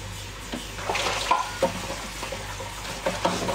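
A pot of food cooking on a stove bubbles and sizzles steadily, with scattered clinks and stirring sounds from utensils against the pot.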